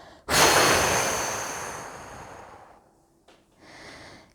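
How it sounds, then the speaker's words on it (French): A strong, forceful exhale through the mouth during a breathing exercise, fists opening as the breath is released: a loud rushing breath that fades over about two seconds, then a brief catch and a softer follow-up breath. "Et quand on n'en peut plus, on souffle très fort en ouvrant les poings."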